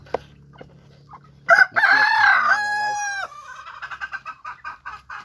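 A rooster crows once, close and loud, with a rising then sustained call, followed by a run of clucking; quieter background sounds come before it.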